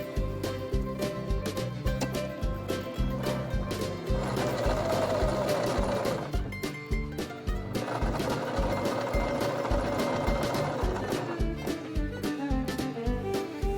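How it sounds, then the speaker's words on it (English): A sewing machine stitches all the way around a fabric edge, running in a steady rapid mechanical rhythm with brief pauses, close and continuous. "You're pretty much just going to sew all the way around the edge."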